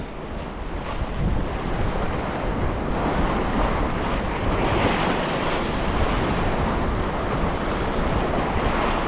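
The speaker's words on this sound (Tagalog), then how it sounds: "Ang lalaki ng alon." Heavy ocean surf roars continuously with large crashing waves at Bacolod, mixed with strong wind buffeting the microphone.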